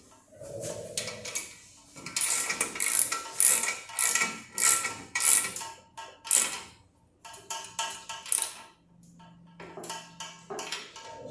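Tightening the rear axle nuts on an e-bike wheel with a ratcheting wrench: repeated clicking ratchet strokes in bursts, close and moderately loud, with metallic rubbing between and a brief low hum near the end.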